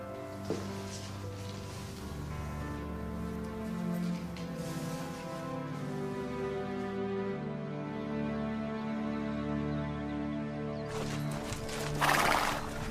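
Horses whinnying with drawn-out, tonal neighs layered across the span, joined by clip-clopping hooves, moderately close under a quiet outdoor backdrop.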